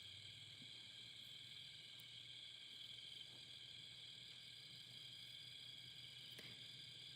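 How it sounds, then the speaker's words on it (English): Crickets chirp in a steady, continuous outdoor chorus on a chilly evening before rain, a high trilling drone that holds unbroken throughout, fairly faint, with no voices. "You guys hear those crickets?"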